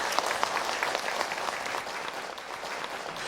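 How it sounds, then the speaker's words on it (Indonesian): An audience at an Islamic lecture by Ustadz Hilman Fauzi claps together, a close, busy burst of applause that stays lively and then eases a little toward the end. "Tepuk tangan dulu"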